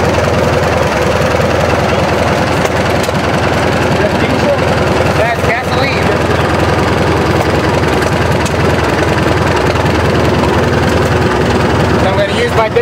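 A 1943 generator set engine runs steadily at a little over half speed at an outdoor engine show, a continuous loud low rumble with a constant knocking throb from start to finish, with faint voices in the background.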